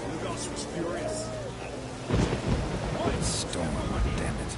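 A thunderstorm in a PS4 game: steady rain hiss under a deep rolling thunderclap that breaks in midway and rumbles on, with faint voices in the background.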